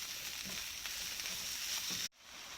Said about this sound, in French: j'y ajoute maintenant la viande hachée et je mélange le tout ensemble